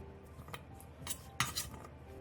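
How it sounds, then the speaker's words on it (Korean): A knife cuts a thick chunk of radish on a cutting board for clam soup. A few close, sharp knocks and chops come at uneven intervals, with no talk. "3cm 두께의 무 한 토막을 2cm 정도 두께로 두툼하게 나박나박 썰어주세요."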